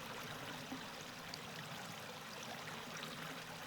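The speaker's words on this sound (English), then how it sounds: "listen to the sounds of water" Water streaming steadily over rocks in a natural setting, a continuous broadband rush that stays even and moderately quiet throughout, with no voices.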